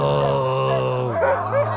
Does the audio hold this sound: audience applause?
no